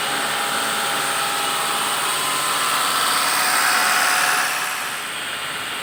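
A 2005 Mitsubishi Grandis engine held steady at about 2000 RPM during a fuel-system cleaning, giving a constant close whining hum with a broad hiss that eases slightly near the end, with no voices.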